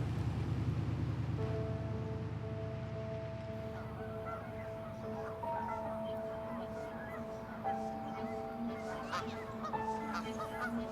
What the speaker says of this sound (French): éloigner les oies des rues et des parcs en les effrayant avec son chien.